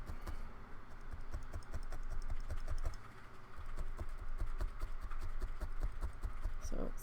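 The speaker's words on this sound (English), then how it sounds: "If you hear any typing in the background" Steady clicking of a computer keyboard being typed on, continuous with a quick uneven rhythm, somewhat distant in a quiet room.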